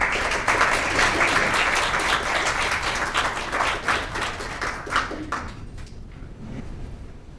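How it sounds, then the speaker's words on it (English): An audience at an Academy of Korean Studies lecture claps warmly to welcome a Korean Zen master. The dense applause holds for about five seconds, then thins to a few last claps and fades out. "please join me in welcoming Dae Bong Snim with a warm round of applause"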